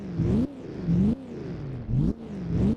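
A 1938 race car in Assetto Corsa, on the Pescara road circuit, revs repeatedly: four or five rising engine pulls with gear-change breaks between them, loud and close, no talking.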